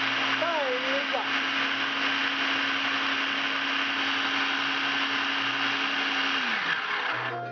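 A food processor runs steadily and loud for the whole stretch, finely chopping vegetables for Cajun shrimp cakes, its motor whine dropping off as it stops near the end, with a brief voice-like warble early on.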